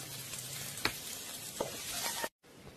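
Onion and garlic sauté in butter in a pan in a bamboo kitchen, a steady close sizzle broken by a few sharp stirring clinks and scrapes.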